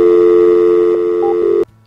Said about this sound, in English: Let's give her a dial tone.